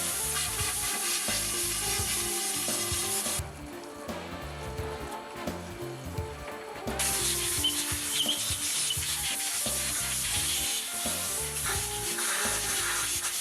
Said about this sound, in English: grind the seating surfaces with a grinding mandrel and carborundum number 500